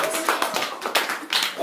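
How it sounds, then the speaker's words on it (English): A school class claps for a pupil at the front of a maths lesson, a short, uneven patter of hands in a small room. "Give her a clap, ladies and gentlemen"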